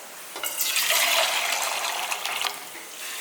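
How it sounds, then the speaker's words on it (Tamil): Water pours steadily into a pot of mutton for biryani for about three seconds, a bright splashing stream close by that swells then tapers off. "1/4 கப் அளவுக்கு தண்ணி ஊற்றிக்கலாம்"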